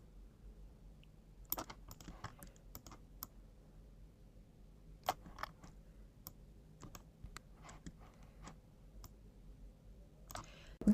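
A computer mouse clicking while dragging with the Option or Alt key held, giving sparse, quiet, close clicks scattered through an otherwise near-silent stretch, a few landing in quick pairs.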